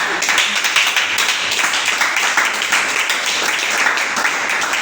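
A church congregation applauding and acclaiming Jesus, with sustained dense clapping from many hands filling the room, steady and loud throughout.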